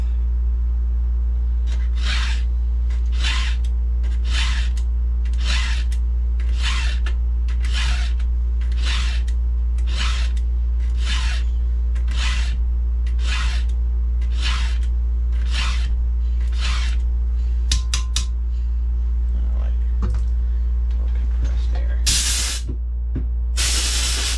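Hand file sharpening the teeth of a 36-inch Archer chainsaw chain: steady, evenly spaced rasping strokes repeat about every 0.8 seconds, close and loud over a constant low hum, ending with a few scattered scrapes and a brief clatter.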